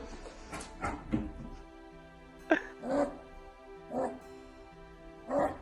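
Timbo the dog makes a series of short whimpering yips and strained vocal bursts while doggy-paddling, spaced irregularly and fairly close, with quieter breathy sounds between them.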